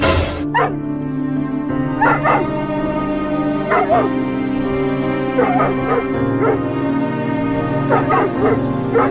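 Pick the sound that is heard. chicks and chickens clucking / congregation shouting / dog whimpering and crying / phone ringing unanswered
dog whimpering and crying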